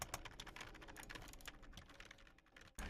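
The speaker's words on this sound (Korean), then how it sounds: "이 마이크는 키보드 소리도 크게 들려요." Rapid computer keyboard typing during live pro gaming play, dense clattering keystrokes close to the mic, continuous and loud with no talk.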